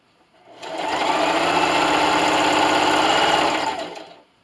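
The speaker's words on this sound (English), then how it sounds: "I'm going to stop with my needle down, raise my presser foot, and spin. And then just sew." A sewing machine stitching a pillowcase side seam runs in one steady, continuous burst of close, loud motor whir and rapid needle chatter, starting and stopping cleanly with no talk.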